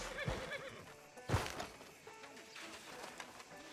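A horse whinnies loudly once in Red Dead Redemption 2, with softer snorts and hoof sounds around it, all set in a quiet, somewhat distant outdoor scene.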